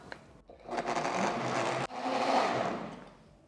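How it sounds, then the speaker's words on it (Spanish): A kitchen blender whirs while mixing gelatin, a dense motor roar that briefly cuts out and restarts, then tapers off toward the end. "se vuelve a prender ahora sí la licuadora"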